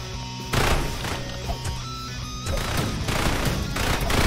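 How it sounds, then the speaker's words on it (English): An auto shotgun in the roguelike shooter Repetendium fires rapid, punchy blasts amid a chaotic wash of game combat noise, with louder bursts hitting in quick succession over a steady backdrop. "Yeah, the auto shotgun's really good."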